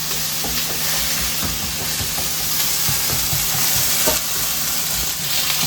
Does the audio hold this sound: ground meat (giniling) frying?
yes